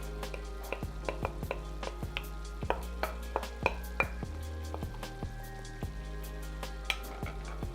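Cauliflower fried rice, a low-carb keto dish, being mixed together in a pan, with repeated clicks and scrapes of a utensil against the pan over a low steady hum.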